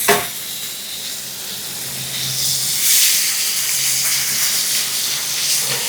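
Food sizzles steadily on an outdoor griddle, a continuous bright hiss that swells briefly midway as it's turned, with a faint low hum beneath and no talking.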